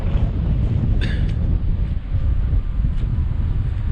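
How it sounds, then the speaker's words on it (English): Steady low rumbling wind gusting to about 20 mph buffets the microphone throughout on the Humber estuary shore, with slight surges and a faint high rattle near the start. "which means it's a bit windy as well. It's gusting today"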